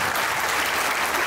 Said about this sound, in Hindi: आपकी भरपूर तालियों में कोच।